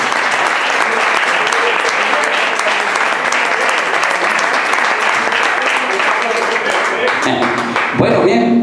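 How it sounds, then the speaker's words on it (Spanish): Dense applause from an audience at a flamenco fandango gathering of the peña El Monino in Herrera, steady and loud for about eight seconds before tapering off at the end. "un aplauso para este buen aficionado."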